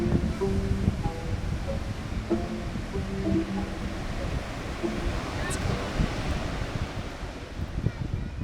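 Ocean waves and surf wash steadily at a Lombok surf beach, a broad continuous rush mixed with wind buffeting the microphone, while a person talks over it.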